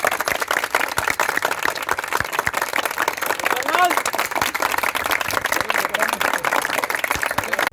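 A group of high school students claps steadily together in a continuous, fairly loud patter of hands throughout, with voices mixed in underneath.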